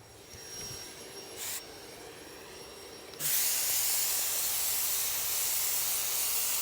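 A steady, loud hiss of an Earlex 6700 turbine paint sprayer switches on partway through and continues, after a quieter hum with a brief burst of hiss.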